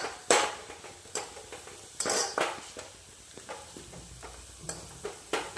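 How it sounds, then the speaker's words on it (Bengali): Onions fry in a pan until browned for a village-style Bengali chicken dish, with metal spoon scrapes and clinks against the pan, faint sizzling underneath and sharp clatters in an irregular rhythm. "এখন এই পেঁয়াজটা ভালো করে লাল লাল করে ভেজে নেব।"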